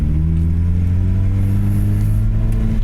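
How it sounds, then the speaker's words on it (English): A supercharged Mazda Miata engine pulls away from a start, a loud, close, steady low drone with strong harmonic hum and faint mechanical clatter. "start the car again,"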